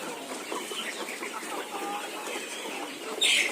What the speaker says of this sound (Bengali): আমাদের পিছনে যে লেয়ার মুরগির পুলেট দেখতে পাচ্ছেন